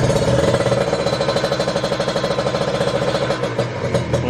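A Kawasaki Ninja 150 RR motorcycle engine idles in neutral, close and loud, with a steady fast mechanical pulse and a slight dip in rhythm toward the end; no talking.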